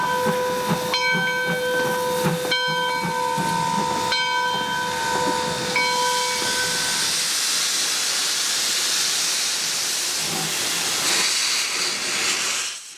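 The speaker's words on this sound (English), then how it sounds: "the train departing Owosso for its first run of the day" Steam locomotive 110 sounds several short and long whistle blasts while departing Owosso station, Michigan, then a loud, steady hiss of steam continues as the train moves off.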